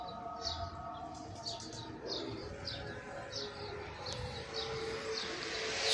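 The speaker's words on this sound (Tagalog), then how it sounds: "Ayun mga kalapati, madre." Pigeons calling outdoors in Saudi Arabia beside a highway, repeated short chirps and soft coos at a steady pace over a low traffic rumble.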